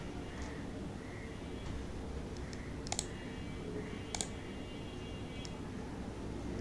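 A computer mouse clicking during an MS-DOS 6.22 install in VMware: two sharp, isolated clicks a little over a second apart, faint against a steady background hiss.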